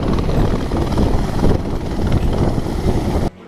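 Helicopter in flight, a loud continuous rotor and engine roar with rough low-frequency beating, cutting off abruptly near the end.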